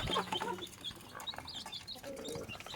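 Chickens and chicks clucking inside a coop where bran has been set out, with several overlapping calls and chirps continuing steadily at close range.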